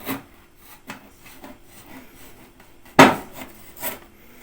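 A knife trims thin strips from the edges of a trileçe cake in its dish, soft scraping strokes with a sharp tap of the blade against the glass partway through, close and clear with no talking.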